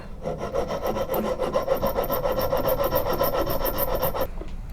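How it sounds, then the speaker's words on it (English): A file rasps back and forth steadily on a metal dagger, rapid regular strokes of scraping close by, stopping abruptly near the end. "This will just be filing it"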